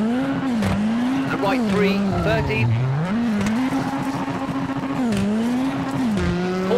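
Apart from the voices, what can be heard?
rally car driving on a flat tyre, WRC 7 video game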